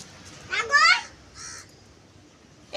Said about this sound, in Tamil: காக்கா சவுண்ட் கேக்குது.